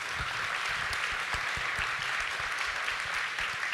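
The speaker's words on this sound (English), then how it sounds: "A round of applause for them." Applause from a conference audience at the AI for Good Global Summit main stage, a continuous even wash of many hands clapping, moderately distant and steady throughout.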